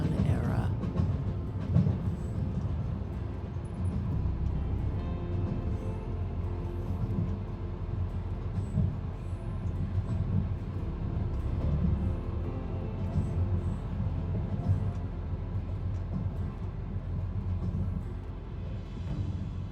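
Heritage railroad train, first built in 1901, carrying riders through ponderosa pine forest toward the Grand Canyon South Rim: a steady low rumble with faint rhythmic rail clatter, continuous and close throughout.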